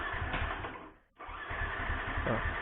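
Yamaha Vixion motorcycle's electric starter cranking steadily without the engine catching, a continuous whirring drone with a brief drop partway through, close and fairly loud, no voices.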